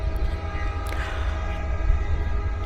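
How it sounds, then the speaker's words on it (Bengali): The Madhumati Express, a broad-gauge train hauled by an EMD locomotive, rolls into platform 2 at Mawa station, a steady low rumble with engine drone and faint metallic squeals, moderately loud and continuous. "মুন্সিগঞ্জ জেলার মাওয়া স্টেশনের 2 নম্বর প্ল্যাটফর্ম ধরে প্রবেশ করছে"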